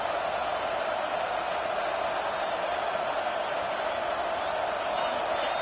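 Home crowd at a football game roaring steadily as the defense faces third down, a continuous loud wash of noise with a commentator talking over it.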